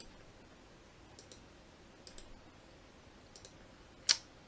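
Computer mouse clicks while working in an Access database relationships window. A few faint, sparse clicks sound in a quiet room, ending with one sharper, louder click.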